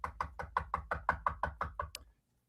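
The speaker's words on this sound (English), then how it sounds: "one day there'll be a knock" A firm knock on a door, about a dozen evenly spaced raps in a steady rhythm, close and fairly loud, ending with a sharper final tap and then silence.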